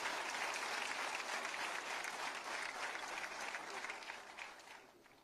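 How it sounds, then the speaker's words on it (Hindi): Loud, sustained applause from a large audience at a formal ceremony addressed by the Uttar Pradesh chief minister, steady clapping that thins and fades toward the end. "जोरदार तालियों"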